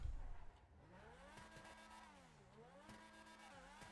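Le Mans race car engine in the GTA Online video game, racing revs rising and falling in sweeping, wailing pitch bends over about four seconds, loud and close, with a brief hard burst at the start and no talking.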